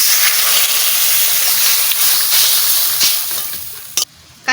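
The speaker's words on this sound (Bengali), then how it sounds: "এইবারটা জল দিয়ে দিচ্ছি" Water goes into a hot pan of dried fish curry, setting off a loud, close, steady sizzle and hiss that fades near the end, broken by a few sharp clatters.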